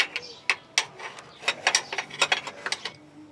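Ratchet wrench snugging an 18 mm fill plug on a full transfer case of a 2000-2006 Chevy/GMC Suburban or Tahoe: repeated quick clicking bursts in uneven runs, close and fairly loud.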